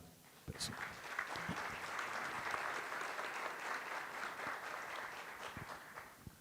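An audience at a forum gives a round of applause for BRDE president and former Paraná governor Orlando Pessutti, steady dense clapping rising quickly and sustained for several seconds, fairly distant.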